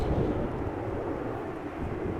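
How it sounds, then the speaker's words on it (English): A Delta Airlines Airbus A330 at Amsterdam Schiphol Airport gives a steady, broad, rumbling jet roar at moderate distance, with some wind buffeting on the microphone. "Now 2 Delta A330s, and after that a 747 from KLM."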